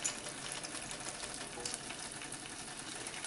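Julienned ginger sizzles steadily in melted butter in a pan, a continuous soft crackling fry that stays fairly faint and even throughout.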